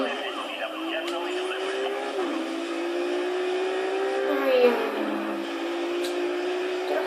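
Racing cars in Need for Speed whine with rising and falling engine pitch as they accelerate and shift, with brief tire skids and a player talking over the game sound.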